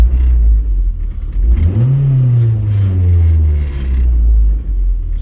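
Car engine revved once during a cylinder balance test with an Autel MaxiPro MP808TS scan tool; loud steady idle rumble climbs into a rising rev, then holds and settles back, with no talk.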